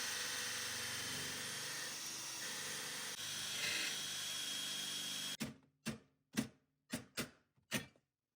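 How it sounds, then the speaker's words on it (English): Cobalt drill bit cutting through rivets while removing brackets in a C5 Corvette interior, a long continuous whirring grind for about five seconds, then six short separate bursts of drilling in a rhythmic series, close with no talking. "I had to purchase some cobalt drills in order to actually drill through these rivets."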